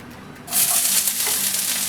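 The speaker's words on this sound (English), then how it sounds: "I chop my onion very fine, as you see. And I'm gonna add it into the oil." Finely chopped onion hitting hot oil for a lasagna, a quiet pan that erupts about halfway through into a loud, steady, close sizzle that holds to the end.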